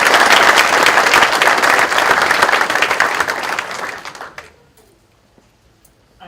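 Audience applause at a college graduation conferring ceremony, sustained loud clapping from a large crowd that gradually thins and fades into near silence.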